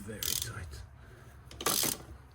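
A hand ratchet clicks while loosening the oil filter housing on a Mercedes CLA45 AMG during a service, two short close bursts of rapid clicking with a pause between.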